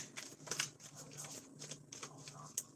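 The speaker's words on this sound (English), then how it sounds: "Alright, so shuffle that back in." Playing cards being shuffled by hand during a live tarot-style reading, a soft riffling flutter with a few sharper snaps, close and continuous over a faint low hum.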